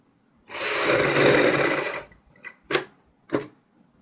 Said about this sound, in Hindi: इस पट्टी के ऊपर हम सिलाई लगाएंगे